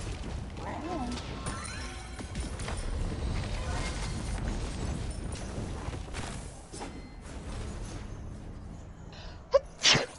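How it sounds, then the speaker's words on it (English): A single sharp sneeze bursts out near the end, following a steady bed of background noise and murmured voices. "Why would you apologize for sneezing?"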